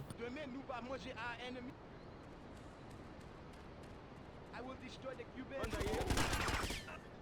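Shotgun fire in the video game Shine O' Vice, a dense loud burst of blasts near the end after a stretch of game chatter and ambience, with voices talking earlier.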